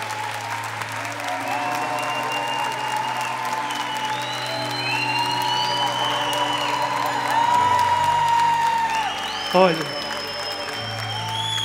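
A congregation at a Marian prayer night applauds loudly and continuously in a church, mixed with cheers and whoops, while a voice speaks over the crowd and sustained musical tones ring beneath.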